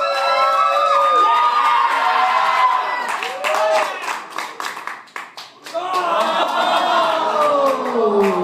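A live audience at a podcast stage show cheers, whoops and claps loudly, dips briefly into scattered shouts and clapping, then swells again into full cheering.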